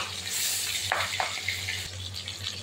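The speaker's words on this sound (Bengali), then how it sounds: "মাছ দিয়ে দিই, দেখুন মাছ এবার আস্তে আস্তে একটু ভাজা হবে" Pieces of silver carp sizzle steadily in very hot oil in a kadai, a continuous broadband frying hiss with a couple of brief louder spatters, close and fairly quiet with no speech.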